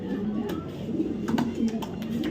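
Racing pigeons coo in low, burbling calls nearby, with short clicks and sharper chirps scattered over a continuous background hum.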